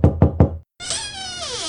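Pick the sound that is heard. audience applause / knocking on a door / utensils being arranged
knocking on a door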